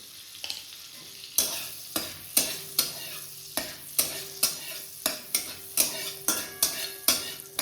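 Cloves, cardamom and cinnamon fry in butter in a pot for a chicken stew: a soft sizzle runs under a quick, regular series of sharp spoon scrapes and clinks against the pan, close by.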